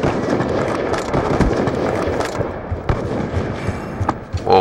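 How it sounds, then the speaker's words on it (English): Rapid gunfire in Call of Duty: Black Ops 2 during a sniper match, a dense, continuous crackle of shots and impacts with sharp bursts throughout, loud and close. "where's that extra shot coming from?"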